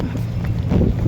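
Brief gusts of wind buffeting the microphone, a loud low rumble with no voices.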